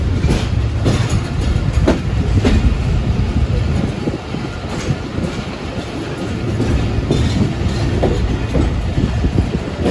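Interior of the moving 46DN Pakistan Express passenger train, a steady loud rumble of the carriage with rhythmic wheel clacks over rail joints throughout, no talking.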